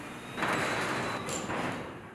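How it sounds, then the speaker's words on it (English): A Chamberlain belt drive garage door opener drives the door back up to fully open, a close, steady rolling rumble that swells, holds for about two seconds, then begins to ease off. "The door returns to the fully open position."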